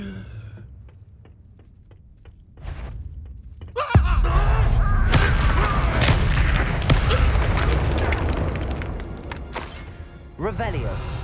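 Fire spell explosion in the video game Hogwarts Legacy: a heavy boom bursts in near the middle and rolls into a sustained roar of crackling debris and rumble, loud and close, with game sounds and voices around it.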